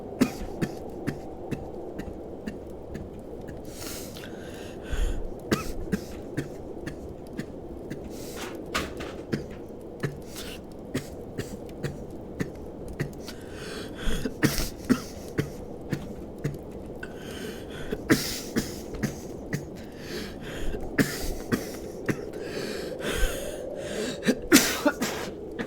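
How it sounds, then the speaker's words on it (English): Repeated coughing from a man getting over a lingering cough, bursts of coughs and throat noises scattered through a quiet close-up recording, with no talk. "I still got a ways to go to get over my coughs."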